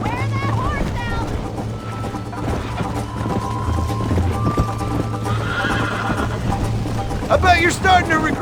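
Horse hooves clip-clop at a steady gallop with a whinny near the end, set in the video game Red Dead Redemption, loud and close under a continuous bed of music and a voice.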